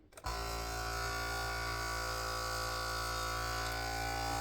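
After a brief click, a vacuum sealer starts up and runs with a steady, unchanging electric hum and whir while sealing a bag of raw onions.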